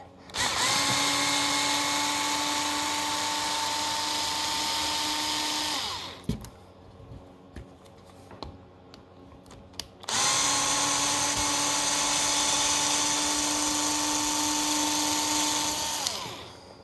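A power tool driver whirs up close as it backs hardware out of RC car wheels. There are two long sustained runs, and a quiet gap with small clicks and handling sounds falls between them.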